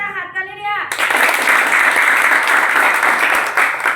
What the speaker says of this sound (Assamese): জোৰছে এটা হাত তালি দিয়া